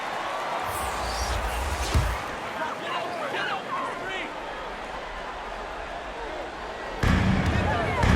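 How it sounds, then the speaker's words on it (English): An NBA 2K22 basketball game between the Grizzlies and Spurs, with a crowd roaring in the arena and sneakers squeaking throughout, then a sharp slam of a dunk near the end. An announcer talks over it. "Oh, and Johnson slams it in"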